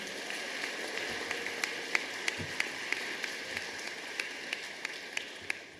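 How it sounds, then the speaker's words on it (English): Sustained applause from a graduation ceremony audience honoring a teacher, a steady wash of many hands clapping with a few sharper individual claps standing out, moderately loud and even throughout. "Can we have another round of applause for Ms."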